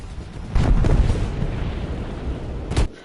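A ground-to-air rocket missile launched in War Thunder: a heavy rumbling boom erupts and rolls on loudly, then a second sharp blast cracks near the end before the sound drops away.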